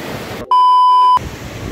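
A river stream flows through the jungle at night, a steady rushing wash of water interrupted by a loud, sustained electronic beep tone before the flow resumes.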